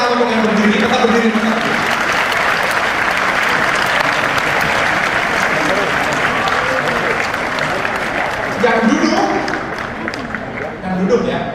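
A large seminar audience claps for people standing in the hall, with loud sustained applause and crowd voices that continue throughout and briefly swell again near the end.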